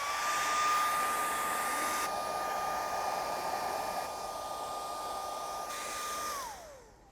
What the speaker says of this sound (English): So this is our heat gun.